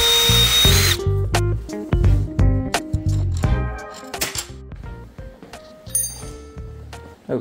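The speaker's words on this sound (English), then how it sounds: "So I'll just have to put these in the vise and drill them out just a little bit." A power drill bores out machine screws clamped in a vise, with loud close whirring bursts that start and stop several times, motor pitch sliding as it loads, plus metallic clinks between runs.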